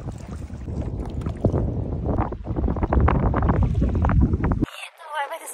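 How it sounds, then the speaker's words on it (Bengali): Strong gusts buffet the microphone on a small boat crossing choppy water toward an island near Cox's Bazar, with roaring wind noise and water rushing; a voice talks over it before the sound cuts away abruptly near the end. "গতকালকের তুলনায় আজকে অনেক বাতাস এবং স্রোতও অনেক বেশি"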